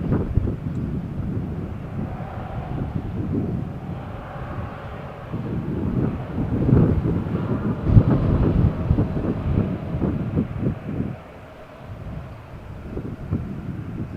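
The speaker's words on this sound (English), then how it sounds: "As you can hear with our microphone, it's quite windy." Strong wind buffeting an outdoor microphone at Malaga Airport on the Costa del Sol, a steady low rumble with gusty swells that rise and fall throughout, loud and close, with no voices.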